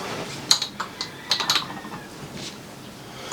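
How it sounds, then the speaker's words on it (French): Worn bearings on a 1996 Yamaha YZ 250 motocross bike, turned by hand, give sparse, irregular metallic clicks and gritty ticks up close, with quieter stretches in between. "Les roulements et tout, ça fait un bruit du diable."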